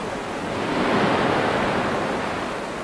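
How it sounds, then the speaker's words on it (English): Waves in a ship test tank roll past test cylinders and break on a distant beach, a steady, broad wash of surf that swells slightly midway and stays even, with no voices. "the waves continue towards the test cylinders and eventually break on the distant beach"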